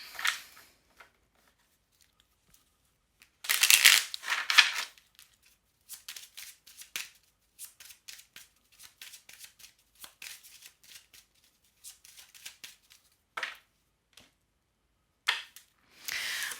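A small deck of Lenormand cards is shuffled by hand in a quiet room, giving bursts of crisp riffling and flicking, one longer loud shuffle and many short scattered card snaps with silences between.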